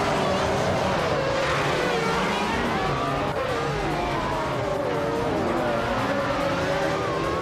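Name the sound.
race cars driving in a racing video game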